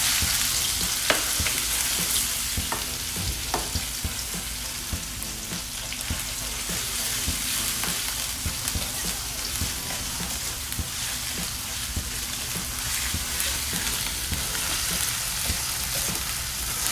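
Spice paste for gulai sautéing in hot oil, giving a steady, dense sizzle and crackle that runs throughout, with faint scattered stirring taps.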